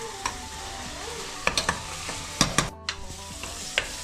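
Onions, fenugreek leaves and mint fry in hot oil for a Telangana mutton curry, a steady sizzle with scattered scrapes and taps of a spoon stirring the pan, close and alone.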